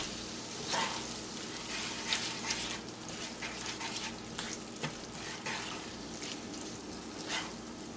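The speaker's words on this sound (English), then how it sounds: "Just gonna stir that up real well." Coney Island chili sauce is stirred in a pot on the stove, giving a steady wet sizzle and bubbling with scattered scraping taps of the spoon against the sides, close and moderately loud throughout.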